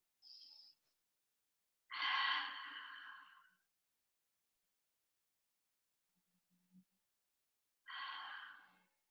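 During a Pilates mat stretch for the hips, a person takes slow, audible breaths: two long, soft exhales separated by quiet, close and gentle, with no talking.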